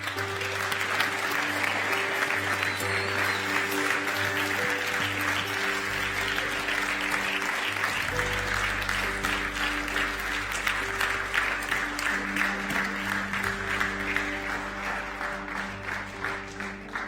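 Sustained, loud applause from a live audience welcoming a woman named Gwen onto a stage, continuous clapping with a steady crowd roar over a low musical backdrop.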